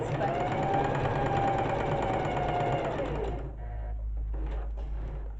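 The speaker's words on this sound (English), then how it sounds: "See how much easier it is to sew a straight seam?" A sewing machine runs steadily, stitching a straight seam on fabric for reusable makeup remover squares, then stops after about three seconds, leaving quieter handling sounds.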